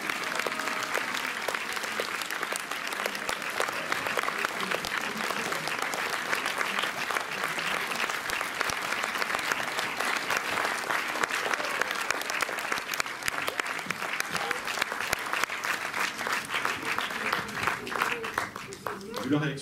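Audience applause for the orchestra Cosmophonie, sustained and dense crowd clapping lasting the whole stretch, steady and fairly loud with no pause.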